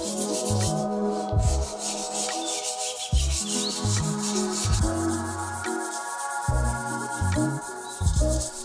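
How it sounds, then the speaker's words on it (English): Sanding of 40x40x3mm metal U-beams inside a storage container, a steady close rubbing and scraping with rhythmic strokes, loud and continuous with no talk. "Timo, you want to do a little bit sanding?"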